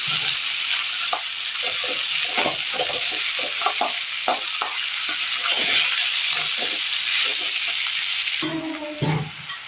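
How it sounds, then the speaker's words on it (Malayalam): Chopped white watermelon rind sizzles in a hot pan while being stirred, a constant frying hiss with repeated scraping and clinking strokes of the spoon, close and fairly loud. "തണ്ണിമത്തങ്ങയുടെ ആ വൈറ്റ് ഭാഗം ഇട്ട് കൊടുക്കാം. നന്നായി ഒന്ന് ഇളക്കി കൊടുക്കാം."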